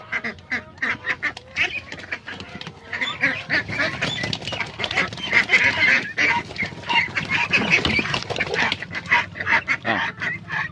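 Laying ducks calling, including a young male with a hoarse, rasping voice, in a dense run of overlapping quacks and honks that carries on steadily throughout at close range.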